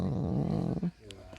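A man imitates a dog with a deep, rumbling growl that holds loud and close for most of a second, then cuts off, leaving quieter breathy noise.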